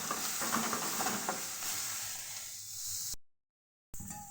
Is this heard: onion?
yes